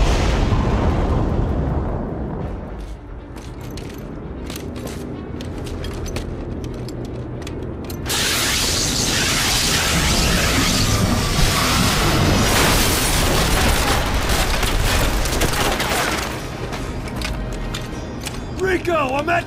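Demo charges detonate in the PS3 shooter Killzone 3 during a battle against an arc cannon. A sudden loud blast at about eight seconds becomes a long, roaring rumble, with battle noise and voices around it.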